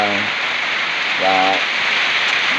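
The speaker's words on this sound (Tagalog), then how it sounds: "dahil nga sobrang lakas ng ulan" Heavy rain in Baguio makes a dense, steady hiss that fills the whole moment, loud and continuous, with brief voices rising above the downpour.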